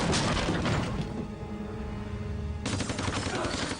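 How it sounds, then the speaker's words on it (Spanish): Uzi submachine gun fire during a shooting in a card room, Brooklyn Russian mafia scene: loud, dense bursts of rapid shots, a brief lull, then another close, harsh volley. "El matón abre fuego con una ametralladora Uzi."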